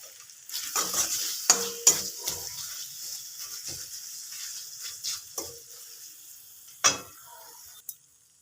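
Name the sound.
sautéing mushroom and potato masala with sugar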